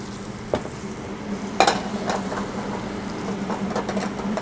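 Prawns frying in olive oil in a pan, a steady low sizzle with a couple of sharper spits and clinks of stirring near the start and middle, close and fairly quiet throughout.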